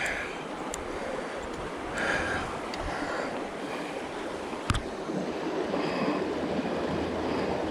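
Steady rushing water of a river flowing in a north Georgia creek while fishing, a constant broadband wash with a brief sharp knock near the middle and no talk.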